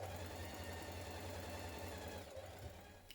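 A sewing machine runs a basting stitch through the lower layers of a shirt collar: a continuous, faint, steady mechanical hum and whirr with no breaks, alone.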